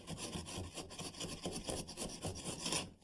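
A triangular grout tool scraping bathroom tile grout back and forth, giving a steady, close, rasping scrape in repeated strokes with no talking.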